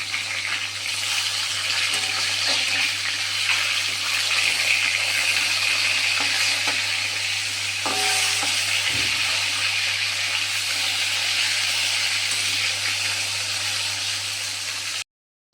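Rohu fish pieces are flipped over in a wok of hot oil, and a broad, steady sizzle carries on throughout with a few faint knocks and scrapes partway through, plus a low background hum.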